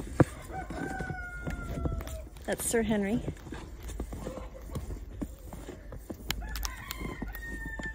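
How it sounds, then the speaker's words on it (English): A Brahma rooster, not quite a year old, crows once in a clear, loud call on a farm, with people talking around it and other farm noises in the background. "Brahma rooster just started crowing."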